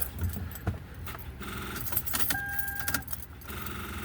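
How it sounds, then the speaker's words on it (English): Car keys jangle in a few brief metallic bursts while someone handles a car emergency kit with a jump starter. A low hum of background noise runs underneath. "Where's my keys at? Here we go."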